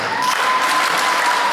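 Steady applause from chiefs and headmen at a community meeting called by Mthonjaneni municipality rolls on as an even, dense wash of clapping, fairly loud and unbroken throughout.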